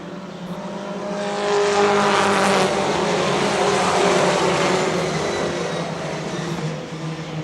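Four-cylinder race cars lap a short oval track at about 76 mph average, a loud continuous engine roar swelling as the pack passes close by and holding steady without any talk.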